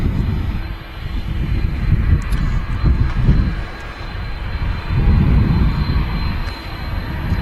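A Turkish Airlines Airbus A330 taxis out at Manchester Airport, its engines a steady low rumble that swells and eases without a break.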